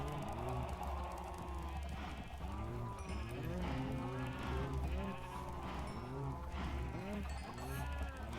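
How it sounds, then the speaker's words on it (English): Livestock in a farming video game keep calling in overlapping bleats and moos, many animals crowded close together in a continuous chorus, with a person talking quietly beneath. "come here, cows."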